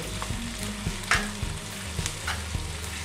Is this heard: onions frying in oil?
yes